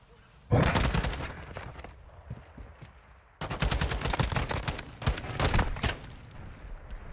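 Video game gunfire in a competitive match: two long bursts of rapid automatic shots, loud and close, separated by a short lull, with faint background chatter.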